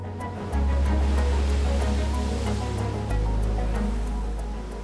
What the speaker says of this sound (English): Although the waves today are not huge by Nazaré's standards